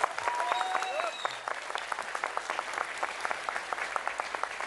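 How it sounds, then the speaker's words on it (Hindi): A crowd's sustained applause welcoming cricketer Virender Sehwag at a News18 Chaupal event, a steady, fairly distant roar of clapping with a voice briefly over the start. "एक ये प्यार है लोगों का जो इतनी तालियां इतनी देर तक बजती हैं।"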